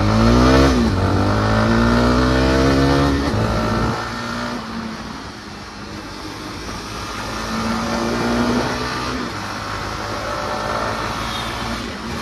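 A Jawa 42 Bobber 2024 motorcycle with a 300 cc engine revs hard through rising gear changes, then settles into a loud, steady engine drone with wind rush on a road after a U-turn, close up with no talking.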